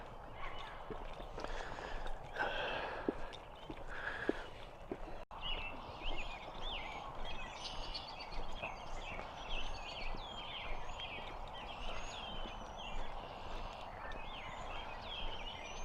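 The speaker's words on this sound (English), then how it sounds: "Birds are being noisy." Birds call repeatedly in a park, a steady chorus of short chirps and gobbling-like notes at moderate distance, with a rustle and brief talk near the start.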